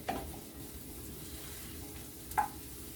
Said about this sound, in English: Let's stir our onions